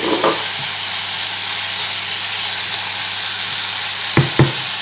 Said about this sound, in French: Et on peut déjà ajouter nos oignons.